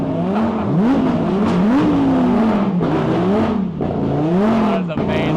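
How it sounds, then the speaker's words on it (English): A lineup of Lamborghini cars drives past, loud engines roaring and rising and falling in pitch as each car passes close by, with a voice talking over them. "Look at this full lineup of Lamborghinis coming through."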